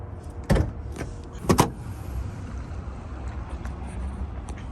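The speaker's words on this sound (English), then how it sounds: "We're gonna go pop the hood." Hood of a 2023 Range Rover P400 SWB being popped: two sharp mechanical clunks about a second apart, close and loud, followed by quiet outdoor background.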